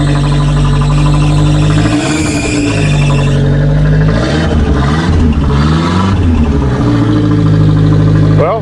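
Car engine idling after a winter cold start, with a loose alternator belt, a loud steady low hum that rises and falls in a few revs and squeals, close by, with no talk over it.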